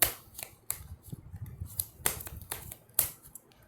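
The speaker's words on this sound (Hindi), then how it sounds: "तो सबसे पहले कार्ड्स ये आए हैं, एक और बार शफल कर लेते हैं।" Tarot cards being shuffled by hand, a series of close, crisp riffling snaps and slaps at an irregular rhythm, fairly quiet with no talking.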